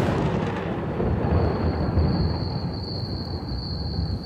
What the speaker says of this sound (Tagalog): Kulog lang yun ah.